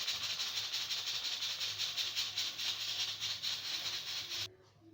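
Steam hisses out of a pressure cooker in a strong, steady jet with a slight pulsing rhythm, then cuts off abruptly near the end.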